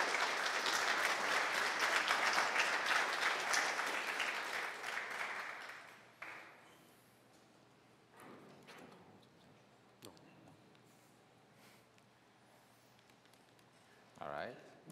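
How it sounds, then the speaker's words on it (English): Audience applause for the panel at an Adobe Substance Days Hollywood 2017 session: a dense, loud round of clapping for about six seconds that then dies away into quiet room noise with a voice speaking. "let's have a round of applause for today's panel."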